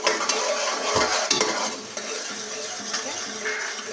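Turmeric and red chili powder roast in a pot for dhaba-style dal mash while a spoon stirs and scrapes, so clinks and scraping ride over a loud, close sizzle.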